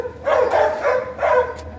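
A dog barks in three loud, close bursts spaced evenly over under two seconds, each a sharp yelping woof, with no talk over it.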